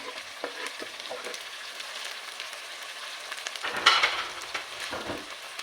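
Green chillies and a medium chopped tomato frying in oil with ginger and garlic, a steady close sizzle with occasional stirring scrapes and a brief louder burst partway through.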